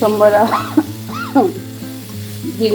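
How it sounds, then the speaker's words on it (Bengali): Cumin seeds sizzle in hot oil as a tempering for masala dosa, a close, steady frying hiss with a voice talking over it. "এখানে তেলের মধ্যে জিরে সম্বরা দিয়েছি"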